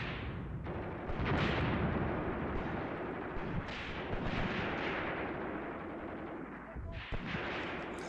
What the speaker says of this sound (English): I've given the ZIS-3 orders to fire at infantry for a change